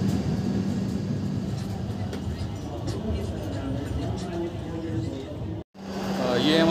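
The Barauni Ahmedabad Express 19484 stands at Habibganj railway station. A steady, loud rumble and hum of the train and station fills the clip, with a brief dropout near the end. A voice may be faintly mixed in.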